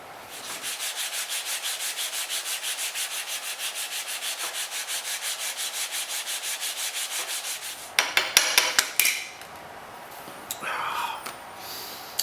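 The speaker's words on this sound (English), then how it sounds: "sanding again" Rhythmic back-and-forth sanding strokes on wood rasp steadily for several seconds, then give way to a few sharp knocks and scrapes.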